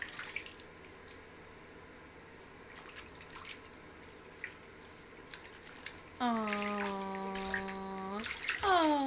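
A small child splashes in a bath, with light intermittent splashes and drips nearby. A high, sing-song voice talks over the water in the latter part.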